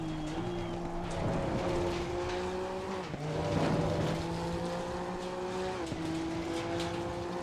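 A Honda NSX EVO GT3 race car at Imola in Assetto Corsa Competizione wails at high revs, with sharp dips in pitch as it drops gears, the engine note steady and close throughout.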